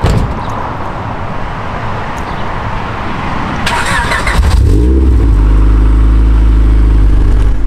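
Honda Civic with a B16 engine starting up: a few seconds of cranking under ambient noise, then the engine catches and settles into a loud, steady close idle hum.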